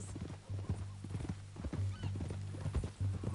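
Horse hooves clip-clop at a steady walking pace in Red Dead Redemption 2, a close, moderately quiet rhythmic clatter with low rumbling tones underneath.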